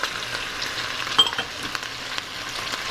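Diced onion and green pepper fry in a pot for jambalaya, giving a steady moderate sizzle with small crackles and faint scraping of stirring, no voices.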